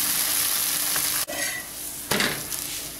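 A multigrain adai dosa fries crisp on a pan with a dense, bright sizzle up close, interrupted by a sudden brief drop and then a fresh burst of crackling as the pan is touched or the dosa moved.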